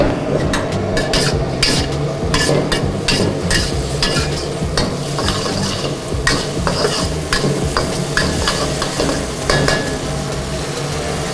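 Chicken for Chicken King Pong sizzles loudly in a hot pan with a vinegar, soy and oyster sauce mixture, under a constant fry hiss broken by rapid scraping and clacking of a spatula stirring the pan.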